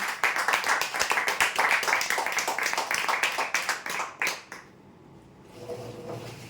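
Applause for prize winners at a lucky-draw event: a dense burst of many hands clapping for about four seconds, then fading quickly into a quiet room murmur.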